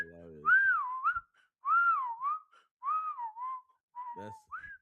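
A person whistles with the mouth to imitate a referee's whistle, four warbling blasts in a row, close and clear, with a short burst of speech at the start and another near the end.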